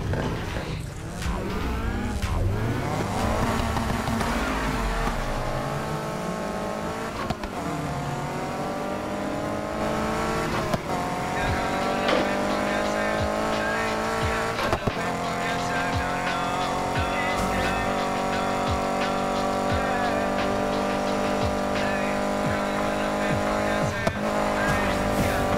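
Race cars in Need for Speed Heat roar continuously, engines revving up and down through gear changes with tire squeal and skidding, loud and close, with occasional faint talk beneath.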